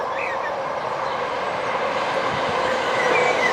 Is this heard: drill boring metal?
no